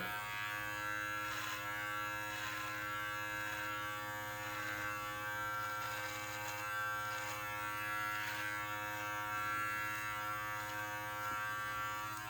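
Steady electric beard trimmer fitted with a 6 mm guard running through a mustache, a constant close motor buzz with slight strokes as it rakes downward, no voices.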